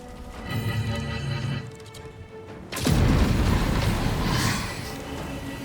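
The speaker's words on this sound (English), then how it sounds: "the grenades are getting closer" In Baldur's Gate 3, a quieter stretch of game ambience and tones gives way to a loud, broad explosion burst near the three-second mark, followed by a rumbling, crackling tail.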